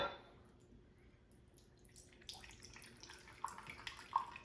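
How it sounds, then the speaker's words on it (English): Vinegar and oil are poured in quarter-cup amounts for a tomato marinade, giving faint, quiet trickling and dripping sounds in a hushed kitchen. "So we're going to use a 1/4 cup of vinegar and a 1/4 cup of oil."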